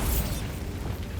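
A Bombarda spell blast in Hogwarts Legacy, a loud, dense burst of explosive noise that fills the whole moment and holds steady without fading.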